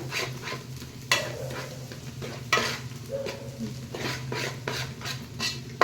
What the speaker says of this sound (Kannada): ಈಗ ಒಂದೇ ಸಮ ಮಿಕ್ಸ್ ಮಾಡಿಬಿಡೋಣ ಈ ರೀತಿ